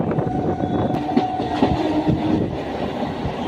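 A suburban train rumbles and clatters past at close range through Banaswadi station in Bengaluru, wheels clicking steadily over the rails, loud throughout with no talking.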